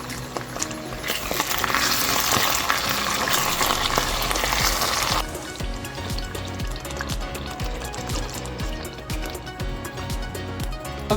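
Tomato paste frying in hot oil gives a loud, dense sizzle that drops after about five seconds into a quieter crackle with scraping and stirring knocks, and no talking.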